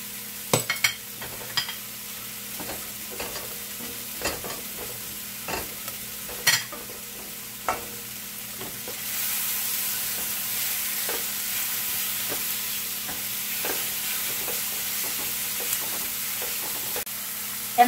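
Mushrooms, onion and garlic fry in a pan with a soft, steady sizzle that swells louder about halfway through, punctuated close by repeated sharp scrapes and taps of a utensil stirring, and no talk.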